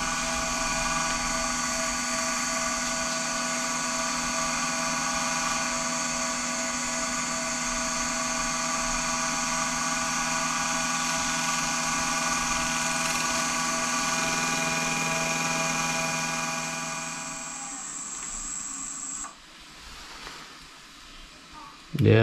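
A wood lathe spins an apple at 1200 RPM, producing a steady tonal whirring hum that runs unbroken for about eighteen seconds before it winds down into scraping and a closing knock.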